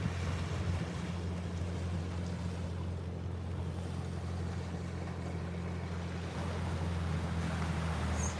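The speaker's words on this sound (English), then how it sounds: "It's a pretty big boat going pretty fast." A big boat speeds past a beach inlet, its engine a continuous low drone under steady wind and surf wash, heard from a distance with no talking.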